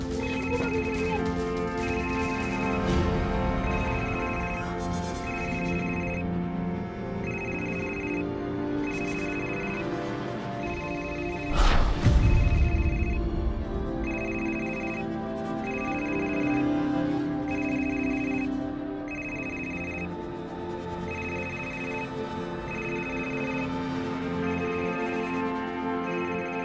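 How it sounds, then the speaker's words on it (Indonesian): A cordless telephone rings in a repeating electronic pattern of evenly spaced bursts, steady and fairly close, with a brief loud thump partway through. "Telepon ini kan nggak ada kabelnya. Kok bisa bunyi?"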